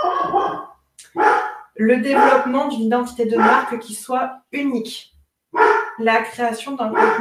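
A dog barks in the background of an indoor recording, several sharp barks mixed in with someone talking steadily in French.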